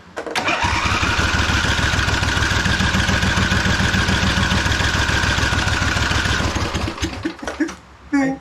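A 2005 Husqvarna YTH2448 ride-on lawn mower engine cranks loudly and rhythmically for about six seconds under the starter, close to the mic, then sputters briefly at the end.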